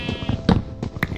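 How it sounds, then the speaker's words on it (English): Sheep bleat in Minecraft, two or three short, close bleats arriving in quick succession over faint background game sounds. "And there's sheep."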